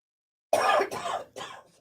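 Three loud, close coughs in quick succession, each burst trailing off, following a stretch of silence.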